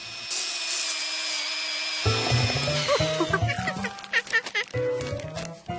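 A cartoon power tool that sounds like a chainsaw starts up after a high whine. It then grinds and buzzes in choppy, uneven bursts that stay loud and close.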